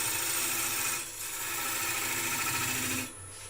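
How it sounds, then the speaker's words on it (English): A skew chisel held flat as a negative-rake scraper shaves rippled sycamore spinning on a wood lathe, giving a steady close rasping scrape over the motor hum, with a short easing of pressure midway and a lift-off near the end. "Just using the skew like a scraper really, negative rate scraper."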